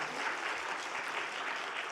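Church congregation clapping during a Sunday worship service, a steady dense wash of applause from many hands held at an even level across the whole stretch, with no voices rising above it.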